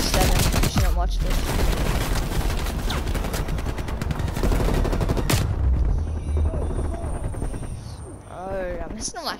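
Dense bursts of automatic gunfire and heavy impacts from the Call of Duty Cold War video game fill the mix, with a voice talking over the shooting before it thins out at the end.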